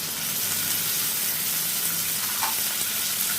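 Onions with ginger garlic paste frying in a kadhai, a steady soft sizzle of oil with a brief stirring scrape, heard close and alone.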